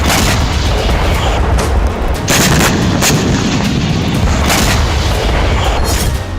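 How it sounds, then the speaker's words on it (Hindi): Rocket strike explosions on a Hamas command centre in Khan Younis, Gaza: loud, dense booming blasts and crackling reports that roll on continuously, with no voices. "ये खान यूनुस से आए दूसरे हमले का वीडियो है, जिसमें हमास के कमांड सेंटर पर रॉकेट गिराए गए"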